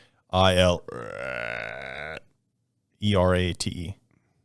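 A loud, close, drawn-out voiced burp in two bursts, the longer first belch followed by a brief pause and a second shorter eructation, made while spelling a word.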